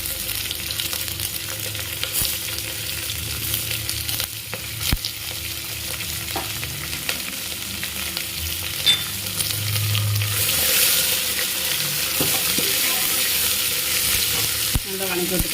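Sliced big onions sizzle and fry in a pan for potato kurma, a continuous crackling hiss with occasional scraping stirs, growing a little louder toward the end, with no talking.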